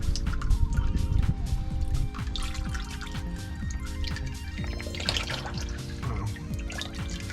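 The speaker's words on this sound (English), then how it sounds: "Let the extra oil kind of trickle down." Used engine oil trickles and drips from a loosened oil filter on an RV, a close, continuous liquid patter with scattered drops over a low background hum, no talking.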